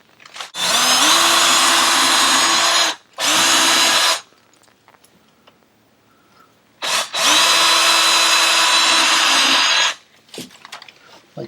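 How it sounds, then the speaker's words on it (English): A power drill drives long screws into a 2x4 behind a deadbolt installation, in two long whirring bursts separated by short pauses, each rising in pitch as it spins up and loud and close. "That's where we're going to get the security, is by getting these long screws into that"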